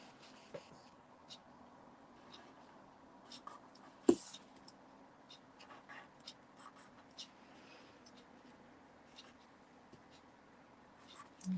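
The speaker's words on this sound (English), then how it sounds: "let me just mark with a pencil" A pencil marks short lines on paper for a duck pond craft project, faint soft scratches scattered across a quiet room, with one sharper tap partway through.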